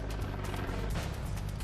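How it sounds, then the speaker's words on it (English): ICE surveillance helicopter hovering overhead at a biker gathering, a loud, steady rotor thump with rhythmic blade chop and engine whine, close and continuous without voices. "ICE, U.S. Immigration and Customs Enforcement, lends a helicopter for aerial surveillance."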